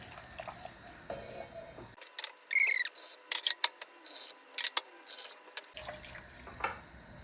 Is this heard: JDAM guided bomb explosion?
no